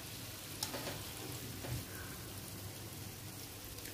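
Shankarpali frying slowly in oil over a low flame, a steady soft sizzle running throughout with a few faint stirring clicks, close and without talk.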